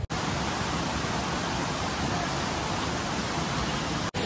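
Savatkada waterfall at Rajapur in the Konkan, a dense, loud, unbroken roar of falling water filling the whole clip with no voices.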